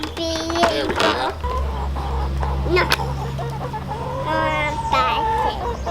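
Backyard chickens cluck and squawk close by in a homestead coop, with a brief rooster-like call and a low hum underneath, plus some faint talk.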